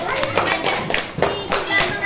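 Children clap their hands in a classroom in short uneven bursts, fairly close, with a few young voices calling out between the claps.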